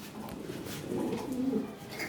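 Soft, low cooing of European Lahori pigeons on a farm close by, a short throaty murmur rising and falling over faint background hiss.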